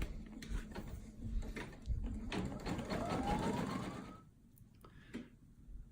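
A sewing machine stitches an applique outline of an egg shape for an Easter table runner, running in a few short mechanical bursts and then a longer steady whir before it stops, with faint clicks afterward.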